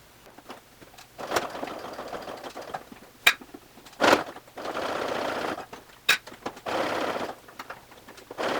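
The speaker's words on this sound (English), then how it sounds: "help guide these corners of the gusset under the sewing machine" A sewing machine stitches the corner of a belt bag gusset in several short bursts, quiet stretches between runs of rapid mechanical chatter, with a few sharp clicks.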